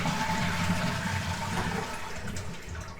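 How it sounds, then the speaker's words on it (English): Small-flush button pressed on a concealed cistern toilet, releasing a steady, close rush of water that swirls loudly and then eases off as the bowl drains. "hopefully we have a working small flush"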